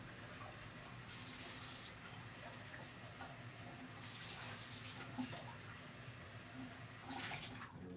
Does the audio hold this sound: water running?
yes